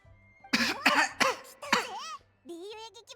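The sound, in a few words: cough after sniffling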